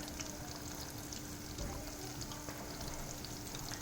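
Steady, dense bubbling sizzle of chicken cutlets frying in hot oil, close and continuous, with no talking.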